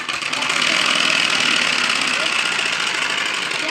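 A motorbike engine fitted with a homemade silencer runs steadily and loudly close by, a dense, continuous buzzing drone with a rapid rattling texture that holds throughout.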